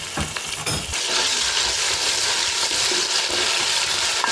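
Ginger garlic paste stirred in a hot frying pan for Hyderabadi kichidi, a steady close sizzle with scraping spoon strokes, a few sharper clinks early on, continuous and fairly loud throughout.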